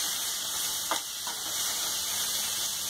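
Vegetables stir-frying in a hot pan for leftover chapati noodles: a steady bright hiss and sizzle throughout, with a couple of brief scraping stirs near the start.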